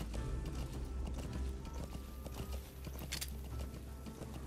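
A horse's hooves clip-clop in Metal Gear Solid 5, a quiet, steady run of hoofbeats over low game rumble and faint mechanical clicks, with no talking.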